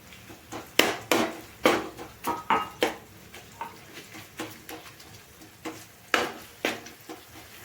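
Garlic chutney is stirred into cooked okra in a pan: close, rhythmic scraping and knocking strokes of a spoon, around a dozen uneven beats with no talking.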